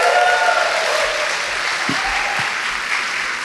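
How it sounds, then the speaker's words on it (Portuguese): A live audience at a talk breaks into dense, steady applause, a broad wash of many hands clapping together that holds even and loud throughout. "Palmas."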